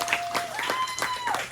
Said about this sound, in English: you can give a round of applause for my mom